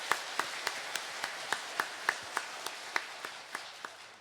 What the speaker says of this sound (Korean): 봉사자들 위해서도 박수를 부탁드립니다